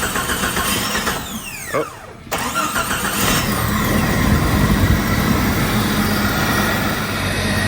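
Vehicle engine cranking and catching after the starter is bridged with a wire brush, then running loudly at a rough, steady idle up close, with a short exclamation at the start.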